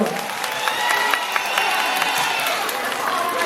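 Audience applause at a travel fair, a dense, steady wash of many hands clapping that holds at an even level throughout, with no talk over it.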